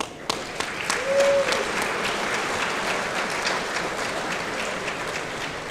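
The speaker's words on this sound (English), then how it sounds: "So just big round of applause for those guys." A crowd at an Ohsweken Speedway Night of Champions racing event applauds steadily, a broad wash of clapping at moderate distance holding for several seconds.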